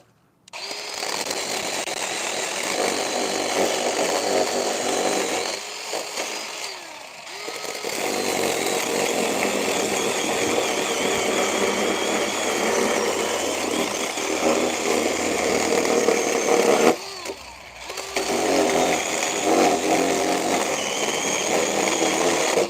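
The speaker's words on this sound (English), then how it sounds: "I have to use a chainsaw on this one." A chainsaw cuts through tough cedar fence boards, its loud, continuous whine of the engine under load running for most of the stretch, with two brief drops where the cut pauses before the saw revs back up.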